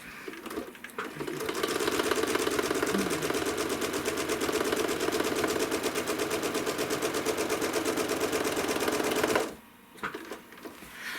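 A sewing machine runs steadily while free-motion quilting a quilt, stitching off the seam ditches, its rapid needle chatter continuous and close for about nine seconds before stopping abruptly.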